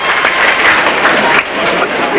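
Studio audience of the 1996 Australian game show Who Dares Wins breaking into loud, sustained applause and crowd noise, dense clapping that dips briefly midway.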